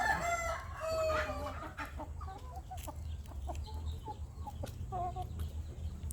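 Burmese game chickens in a garden: a rooster crows nearby, followed by scattered clucks and short calls from the flock over a low background hum.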